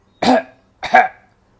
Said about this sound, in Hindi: जैसे आप खांसते हैं वैसे ही खांसेंगे